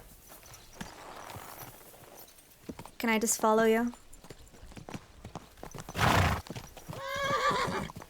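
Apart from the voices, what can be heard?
horse walking and neighing in video game Kingdom Come: Deliverance II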